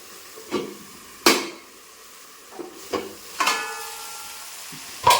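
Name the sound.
chicken with masala frying and being stirred in pan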